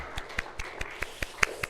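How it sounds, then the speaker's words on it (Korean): A church congregation claps in unison, with about nine evenly spaced, fairly faint claps at a quick, steady beat. "우리 모두 하나님께 영광의 박수를 올려드릴까요?"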